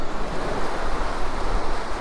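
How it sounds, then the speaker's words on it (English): Surf from an incoming tide on a beach on England's east coast near Hornsea rolls in as a continuous, loud wash, with wind buffeting the microphone and no voices. "the tide's coming rocketing in"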